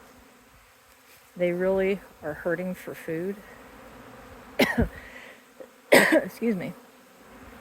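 Honeybees buzz steadily in an apiary on a warm day while a person speaks in short bursts, with a brief cough or throat-clear between phrases.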